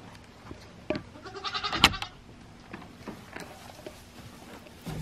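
A goat bleats once on a farm, a short wavering cry close by, set among scattered light clicks and knocks.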